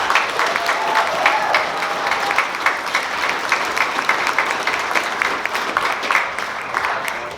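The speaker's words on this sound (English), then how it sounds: "Give her a round of applause." An audience claps at a steampunk festival fashion show and cosplay contest, a lively burst of close, crisp clapping with some cheers that holds at full strength and then eases slightly.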